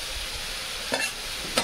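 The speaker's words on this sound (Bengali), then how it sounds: "ফার্স্টে আমি দেব পটল আর আলুটা ভেজে নেব।" Pointed gourd and potato frying in hot oil in a pan, a steady close sizzle throughout with a couple of brief louder stirring scrapes.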